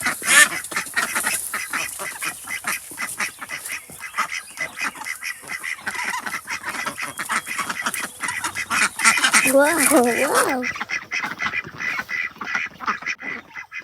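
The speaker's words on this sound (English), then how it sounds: "These ducks are khaki Campbells mostly" A flock of Khaki Campbell ducks quacking and honking continuously, loud and close, with a brief exclamation from a person partway through.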